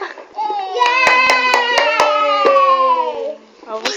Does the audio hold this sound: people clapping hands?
yes